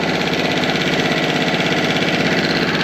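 A Tohatsu 6hp outboard motor runs steadily in gear, a loud, continuous close-up engine drone with a fast, even pulsing and no pauses.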